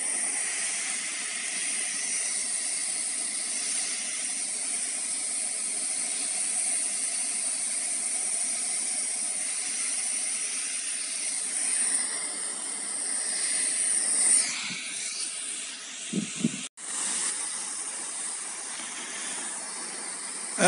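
Fine hiss of water spraying lightly over freshly sown pepper seeds covered with a thin layer of soil, steady and close for most of the clip, with a brief pause and a few soft knocks near the end.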